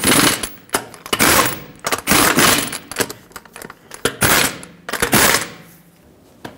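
Wheel lug nuts on a Nissan Pathfinder tightened in a cross pattern, a series of short sharp rattling bursts from a nearby power wrench, spaced unevenly and close up.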